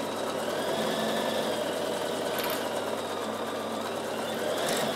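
A Bernina sewing machine runs steadily through a seam on dress fabric, a continuous close, even whirring hum of rapid stitching with no pause.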